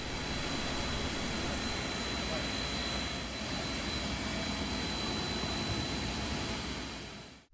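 Rice polishing machines at the Dassai sake brewery, one of 54 units that run around the clock grinding Yamada Nishiki rice with rotating stone plates, give a steady, loud broadband roar with a constant high whine. It holds unbroken until it cuts off at the end.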